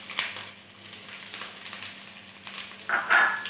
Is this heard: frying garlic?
yes